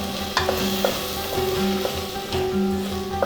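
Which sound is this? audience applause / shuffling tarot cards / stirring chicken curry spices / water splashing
stirring chicken curry spices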